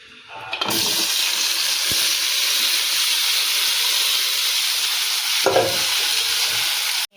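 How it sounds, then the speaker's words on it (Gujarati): Onion, garlic and tomato drop into hot oil in a wok and set off a loud, dense sizzle and hiss that holds steady, with a few stirring knocks before it cuts off. "તેલ ગરમ થાય એટલે આપણે ડુંગળી આ લસણ ને ટમેટા લીધા છે એ આપણે નાખીશું."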